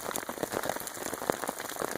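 Freezing rain patters steadily on a bivy shelter and shelter half during an overnight camp, dense irregular drops tapping the fabric close by with no talking.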